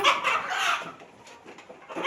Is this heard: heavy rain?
no